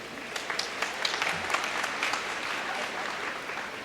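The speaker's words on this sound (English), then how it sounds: "Give them another round of applause, please" A large audience at a university commencement claps steadily throughout, a sustained round of applause at even loudness with scattered sharper claps.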